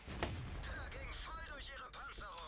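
A tank cannon fires in a tank video game, a single muffled boom near the start, followed by rumbling battle noise mixed under someone talking throughout.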